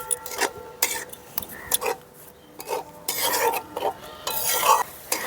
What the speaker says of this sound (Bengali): টমেটোর পেস্ট দেওয়ার পরেও কিন্তু আবার মশলাটাকে একটু সময় নিয়ে কষিয়ে নিতে হবে